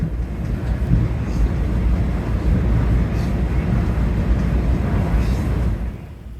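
A Long Island Rail Road train running from Ronkonkoma toward New York Penn Station, a steady, loud low rumble and roar of the ride heard from inside, easing off slightly near the end.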